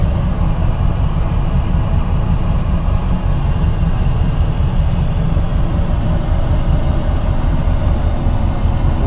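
A car engine idles steadily after being taken out of high idle while its R290 propane-charged air conditioning runs, a loud, constant low rumble with a fan-like hiss and no talking.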